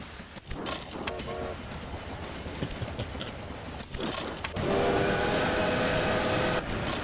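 A steam-era train rumbles along in the railway management game Railway Empire, set in 1844, with a steady broadband mechanical roar that swells louder midway, carrying a sustained whistle-like tone; no speech.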